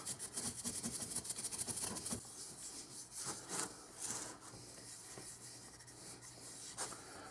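An oiled hand rubs along the wooden stock of a Mossberg 500 20-gauge shotgun, giving a close, soft, repeated rasping friction in quick strokes that slow into longer, scattered swipes, with no talking.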